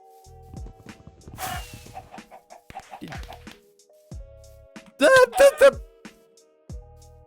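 Minecraft chickens cluck in a short burst of several quick, fairly loud calls midway through, set against a quiet night scene with faint game sounds and a few soft animal noises.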